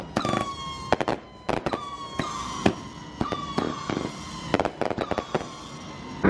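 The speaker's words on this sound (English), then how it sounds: "who gave Darian a lighter and fireworks" Repeated sharp fireworks bangs and crackles burst in quick irregular clusters at a race night at Nashville Fairgrounds, with a whistling siren-like tone gliding through the blasts.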